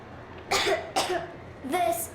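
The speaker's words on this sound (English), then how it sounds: "I have this cough." A young girl, Nastya, in the video game Metro Exodus, coughs in three short, close bursts, each a harsh rasp with a voiced edge, separated by brief pauses.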